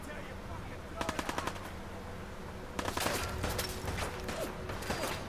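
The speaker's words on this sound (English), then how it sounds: "Oh, they're really shooting at us." Enemy gunfire in the video game Fallout 4 crackles in short rapid bursts, one quick volley of shots followed by a longer, denser stretch of firing over a low steady background.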